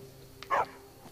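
A single dog bark from the video game Skyrim, short and moderately loud against a quiet in-game background hum.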